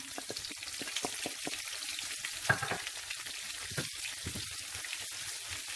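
Onions frying in oil in a pan for a red tomato sauce, a quiet even sizzle dotted with soft pops and crackles, with one sharper spatter near the middle.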